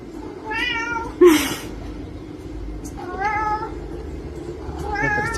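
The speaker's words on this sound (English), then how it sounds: "That's a cute cat." A cat meows three times, each call a short wavering cry with a gap between, close by and fairly loud over a quiet indoor room, with a brief rustling noise after the first call.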